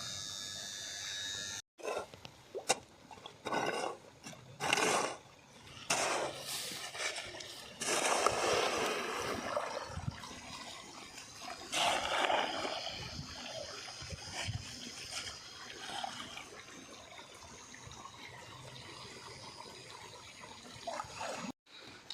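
Irrigation water flowing into a wheat field, a near, uneven gush and trickle that swells and fades in bursts, with a few knocks and handling noises between.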